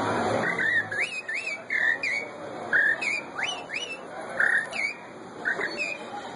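Whistled imitation of a rufous-bellied thrush (sabiá laranjeira) song by a man: repeated short warbling phrases with quick up-and-down slides, close and steady with brief pauses between notes.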